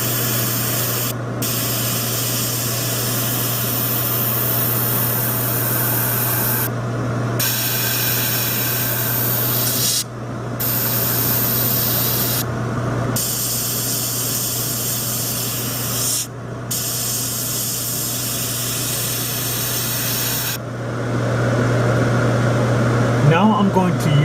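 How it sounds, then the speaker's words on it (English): An airbrush sprays paint over a 1/72 scale Minicraft/Hasegawa F8-E Crusader model, a loud steady hiss of air with a low compressor hum, cut by several brief pauses between passes. "Now I'm going to use my airbrush and paint the entire model with the main color."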